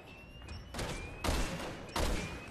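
Gunfire in the Resident Evil 6 video game comes as a few loud, rapid bursts of shots over a background hum, each burst lasting under a second.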